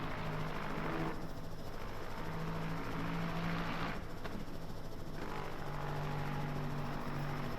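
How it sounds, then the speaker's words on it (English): A helicopter hovering above a racing game scene at a Le Mans 4-hour event, its rotor thrumming steadily and loudly under the continuous drone of race cars. "just hearing that chopper in the sky, watching down on this Lexus"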